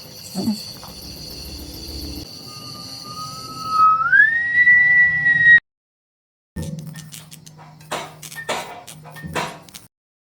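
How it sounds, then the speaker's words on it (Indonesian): A person whistles at night in a horror film, a clear tone rising in pitch, then a brief silence followed by scattered knocks and rustling. "Tiba-tiba Cecep mendengar suara orang bersiul yang menghentikan pekerjaan mereka untuk sejenak."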